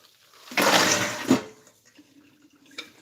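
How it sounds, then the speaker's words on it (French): Cold water runs briefly over beans in a kitchen sink as they are rinsed and drained for cassoulet, a close whooshing gush that fades into faint trickles and drips. "Donc, je les rince à l'eau froide."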